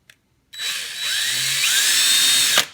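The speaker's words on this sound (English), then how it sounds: "I'm going to drill a pilot hole for the screw in this block." A power drill whines loudly for about two seconds as it bores a pilot hole for a screw into a wooden block, starting abruptly and stopping with a brief clunk.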